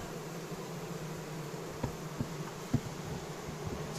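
Honey bees, including Carniolan and dark bee breeds, buzz steadily in a dense, continuous drone, with a few faint clicks and taps scattered through.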